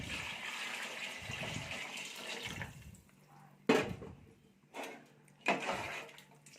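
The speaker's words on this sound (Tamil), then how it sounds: "நான் வந்து 2 உழாக்கு அரிசி எடுத்திருந்தேன், 4 உழாக்கு தண்ணி சேர்த்துக்கிறேன்" Water pours into a cooking pot of rice and mutton for biryani in a village kitchen, a steady gushing splash for a few seconds followed by a few short, separate sloshes and pours, fairly quiet with no voices.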